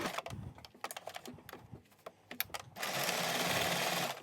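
A sewing machine stitches an ear saver headband for face masks, first in irregular close taps and short runs, then settling into a steady, continuous whirring run.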